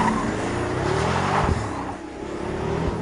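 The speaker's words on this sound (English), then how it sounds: "The engine is a bespoke 6-litre twin-turbo V12, courtesy of AMG." Pagani Huayra supercar with a bespoke AMG 6-litre twin-turbo V12 driving, a loud, close engine drone that rises and dips as it revs, with a faint tire squeal.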